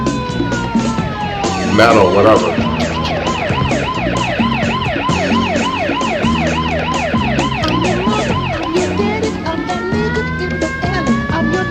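A fire truck siren wails loudly and steadily in rapid rising-falling cycles over traffic rumble, with a brief spoken remark at the start.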